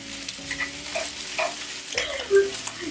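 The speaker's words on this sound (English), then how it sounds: "Break it up a little bit more as you stir it in." Eggs sizzle loudly as they are stirred into frying tocino and pineapple fried rice, with steady hiss broken by scraping spatula strokes and a sharp clack near the end; no voices.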